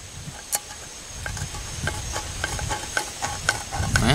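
A multi-tool can opener is worked around the lid of a metal can in a series of small ticking clicks, one roughly every half second. They sound close, under a steady hiss of background noise.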